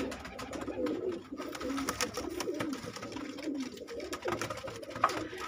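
Gulgasht pigeons coo close by in a loft setup, soft repeated low burbling calls in uneven bursts, with some light rustling and no talking.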